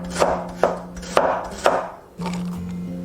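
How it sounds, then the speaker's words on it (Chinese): Knife slicing ginger on a cutting board, four crisp evenly spaced chops followed by a pause and a low steady hum, close and fairly loud with no talking. "生姜切片"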